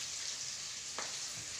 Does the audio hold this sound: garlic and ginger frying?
yes